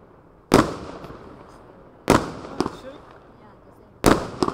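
Three sharp firework bangs from Lesli fireworks go off about one and a half seconds apart, each followed by a brief crackling tail, with a low background murmur in between.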